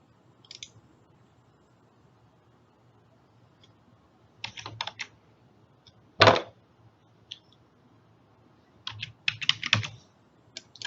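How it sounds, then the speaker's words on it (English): Scattered keystrokes on a computer keyboard, close by, coming in brief clusters separated by long quiet gaps, with one sharper, louder tap midway through. "Keyboard is not cooperating."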